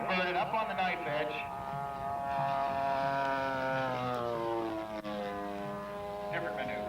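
A scale model Extra 230 aerobatic plane flying maneuvers, its engine droning continuously with a rising and falling pitch as it dives and pulls out, heard from a moderate distance with a voice talking over it.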